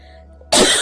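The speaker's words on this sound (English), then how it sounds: "I have a coughing fit." A single harsh cough bursts out suddenly after near silence, close and loud, part of a coughing fit.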